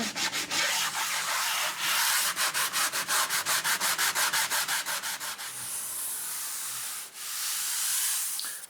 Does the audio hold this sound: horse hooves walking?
no